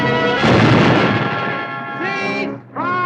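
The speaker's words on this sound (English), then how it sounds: "It's the first time I've ever been treated to broadsides from my own ship." Pirate ship cannons fire a broadside in a radio drama, a loud rolling boom that swells and decays over a second or two, followed by shouted voices.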